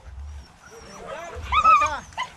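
Greyhound on a hare hunt gives a few yips and barks partway through, mid-distance outdoors over low rumbling background noise.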